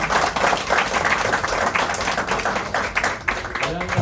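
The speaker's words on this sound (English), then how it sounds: "So if you'll join me in giving them a round of applause." Audience applause for a high school jazz ensemble fills the room, a dense steady wash of clapping held at an even level throughout, with voices mixed in underneath.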